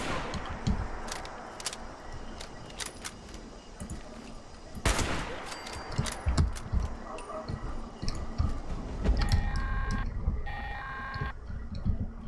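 Gunfire in Fallout 76, scattered single shots and rapid bursts over about twelve seconds, with one loud blast near the middle and a beeping electronic tone near the end.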